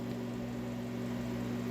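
A steady low mechanical hum with a constant tonal drone, unchanging throughout: a microwave oven running on high.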